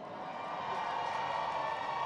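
A large stadium crowd at the All-American Bowl in the Alamodome roars for the East team, a sustained, even wash of cheering that swells slightly partway through, heard from within the arena.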